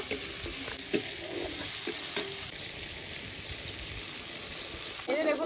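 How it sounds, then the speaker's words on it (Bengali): Ground spice paste frying with cumin seeds in hot oil for a fish curry, a continuous close sizzle with a few sharp clinks of a spoon against the pan and no talking. "সঙ্গে যে আমরা মশলাটা বেটে রেখেছিলাম, সেই বাটা মশলাটা, মশলাটাও খুব ভালো করে একটু কষিয়ে নেব"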